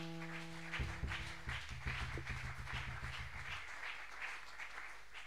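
A church congregation breaks into applause to praise the Lord, a soft spread of many hands clapping in a rough rhythm. It begins over a fading sustained organ-like tone and continues on its own.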